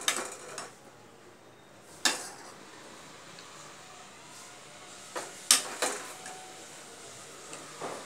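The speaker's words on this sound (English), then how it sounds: "Now we'll serve in a bowl." Spinach soup ladled into a bowl gives a few sharp, scattered clinks of utensil against the dish, with quiet room tone between them.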